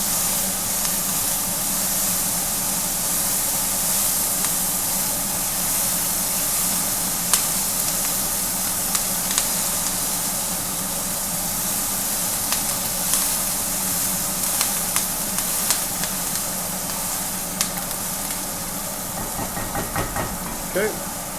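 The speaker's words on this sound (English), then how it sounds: "We're going to turn our pan down to about medium and go in with our onion." Chopped onion sizzles in a pan over medium heat with browned pork, a constant loud hiss with scattered crackles and a few scraping stirs, continuing steadily throughout.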